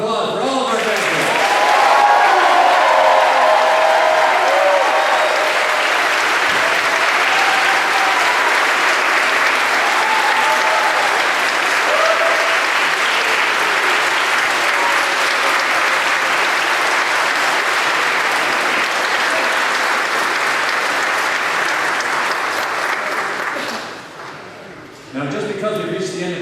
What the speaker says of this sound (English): How about one more round of applause for all of our graduates?